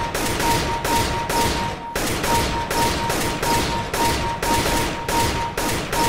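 Rapid gunshots in a CS:GO aim training map, sharp evenly spaced shots roughly every half second, loud and close throughout, with a faint steady tone underneath and no talk.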